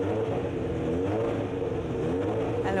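A small 1977 Van Diemen race car at a historic hill climb, its engine revving and accelerating with a rising buzzy note, fairly close and alone.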